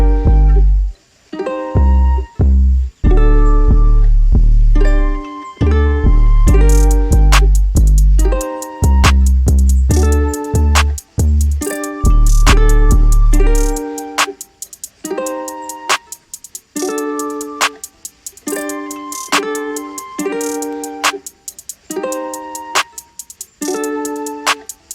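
A trap beat with ukulele and flute plays loudly, with punchy deep kick and bass hits, crisp rapid hi-hats and a repeating plucked melody. The low end drops out midway, leaving the melody and hats, with no voices.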